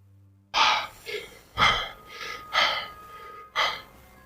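A person pants and gasps heavily, exhausted after a sword fight: five or six sharp, breathy inhales and exhales in an uneven rhythm, close to the ear, as an audio drama effect.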